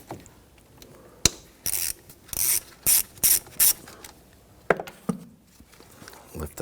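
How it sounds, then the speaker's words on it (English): A 10mm socket ratchet loosens the battery terminal on a 2011–2015 Kia Sorento, giving several short, loud, close clicking bursts separated by brief pauses, with a sharp knock near the start. "Use your 10mm socket."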